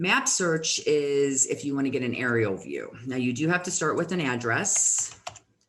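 A computer keyboard clacks lightly as an address is typed into a search field, the clicks running beneath steady, close talking throughout.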